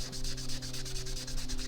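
Sandpaper rubbing back black stain on a PRS-style guitar body, steady rhythmic back-and-forth strokes, close and clear with no voices.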